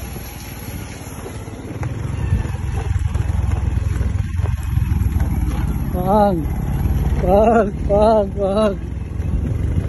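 Motorcycle engine droning steadily during a ride, loud with heavy wind rumble, while riders talk and shout over it.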